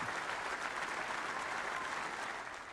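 Crowd applause in a snooker video game, a steady bed of dense clapping heard throughout at moderate level, easing slightly at the very end.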